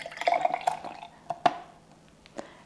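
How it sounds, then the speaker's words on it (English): Lemon juice is poured into the top of a food processor for lemon bars, giving a short run of wet splashes and drips, then a few separate drops that fade out. "I'm gonna pour it in the top"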